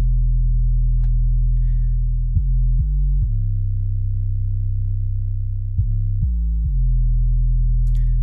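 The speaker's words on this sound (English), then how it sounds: "Which is a pretty simple 808 pattern." Deep, sustained 808 bass notes made with Sublab hold long tones with quick pitch-sliding hits between them, a simple booming pattern with faint ticks on top.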